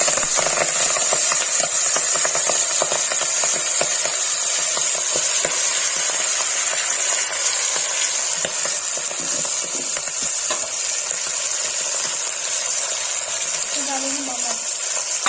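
Kashmiri saag (haakh) greens sizzling in hot oil with cumin and hing, a loud continuous frying hiss with scattered stirring clatter throughout.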